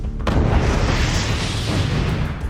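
A missile explosion in the Atomic Chess video game: a loud, sustained booming rumble that fills the whole moment without a break.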